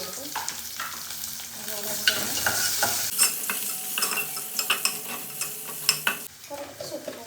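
Curry leaves, green chili and garlic are stirred in a hot pan for a buttermilk curry. A soft sizzle sits under repeated close clinks and scrapes of a spoon, and a voice briefly speaks over the cooking.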